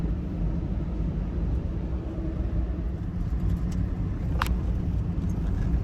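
Steady engine and road-noise drone from a van driving at night on a winter road in Arctic Sweden, a constant rumble with no break and one brief high squeak midway.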